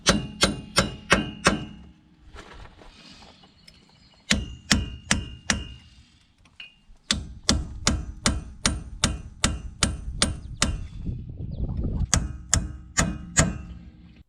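A hammer taps around the edge of a wheel bearing to break it free from the steering knuckle on a 2015 Ram 2500 4x4 front axle. Sharp metallic strikes land in quick bursts and then as a long, steady run of close, ringing blows.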